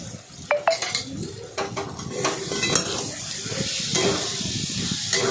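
Poppy seed paste and potatoes being stirred in a frying pan, with sharp clinks and scrapes of a metal utensil against the pan at first, then a fuller steady sizzle underneath.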